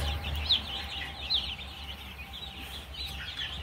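Two-day-old chicks peep in high, thin chirps, a few brighter calls rising over a steady low hum of the brooding area, with no talk.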